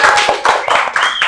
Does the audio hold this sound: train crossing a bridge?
no